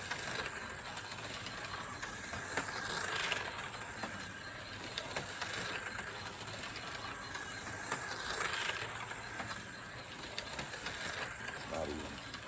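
A modified Fly slot car with slotted braid runs laps on a track, its whine rising and fading steadily around the circuit at a moderate distance with no talk.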